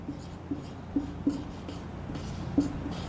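Chalk or marker writing on a board in a classroom, a few soft taps and short strokes spaced unevenly over a low steady room hum, faint and fairly close.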